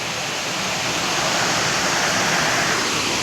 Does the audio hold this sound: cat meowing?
no